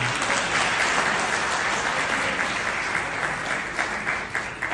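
Audience applause at a Hindi poetry recital forms a dense, steady wash of clapping that holds throughout and thins slightly at the end.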